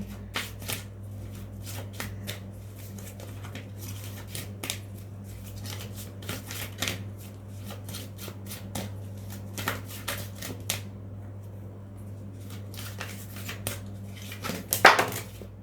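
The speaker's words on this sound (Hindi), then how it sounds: "चलिए एक कार्ड और लेती हूँ यहाँ पर।" Tarot cards are shuffled and drawn by hand, producing a run of soft, crisp flicks and slaps that come close and fairly quiet over a low steady hum, with a sharper burst near the end.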